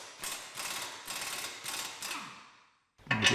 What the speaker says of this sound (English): I'm going to be putting the air gun on these.